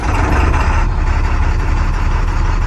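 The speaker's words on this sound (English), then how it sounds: "Now I'm gonna go ahead and safe start my vehicle again." A Class B commercial truck's diesel engine runs loud and close with a steady low rumble and a hiss of air building in the brake system, no talking over it.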